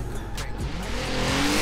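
A Golf 4 GTI drifting in Forza Horizon 4, with a steady engine roar, rising revs and tire squeal running continuously and fairly loud throughout the short burst, no voices over it.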